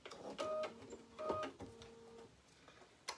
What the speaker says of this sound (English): And it is stitching out our placement line.